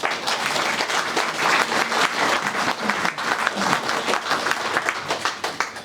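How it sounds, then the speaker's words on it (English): Audience applause fills a library ceremony as the mayor is introduced, a dense, steady burst of many hands clapping close and loud for several seconds, with a few voices mixed in. "Thank you for clapping."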